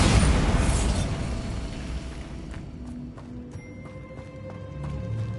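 A Bombarda spell blasts in the Hogwarts Legacy video game: a loud burst that rumbles and slowly fades, followed by quieter ringing tones from the game.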